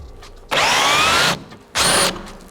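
A Dnipro-M cordless drill driver backs out a screw in two close, loud bursts, a high whining motor run of almost a second followed by a shorter second spin after a short gap.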